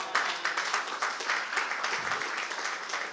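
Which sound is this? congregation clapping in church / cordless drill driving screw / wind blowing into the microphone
congregation clapping in church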